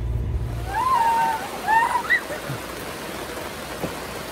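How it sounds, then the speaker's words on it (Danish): Rain falls steadily in Greece near the Evia strait, a dense, even hiss with a few brief chirps rising over it. "så er der regnvejr i Kroatien"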